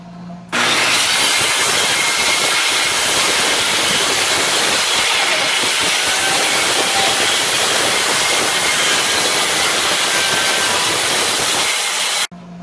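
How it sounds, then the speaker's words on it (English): Circular saw cutting off a whole section of foam seat cushion material, a loud sustained rushing whine that starts abruptly, holds steady for about twelve seconds and then cuts out. "we're going to take a circular saw, we're just going to cut this whole section off"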